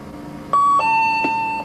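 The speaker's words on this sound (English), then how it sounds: "Ding dong will sound." A two-tone ding dong chime rings out clearly, a higher tone followed by a lower sustained one, loud and close with a second strike near the end.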